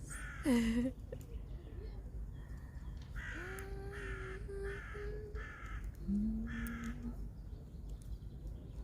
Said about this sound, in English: Wow, that sounds like a Korean bird.